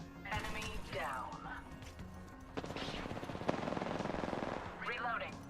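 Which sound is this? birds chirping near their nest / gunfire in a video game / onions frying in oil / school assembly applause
gunfire in a video game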